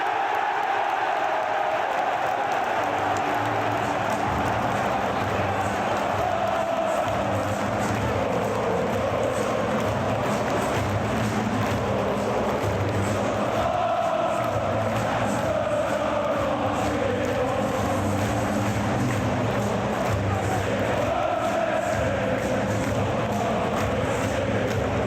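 An English football crowd roars and cheers steadily after a late extra-time goal, a dense, sustained wash of voices in a large stadium that swells and surges throughout.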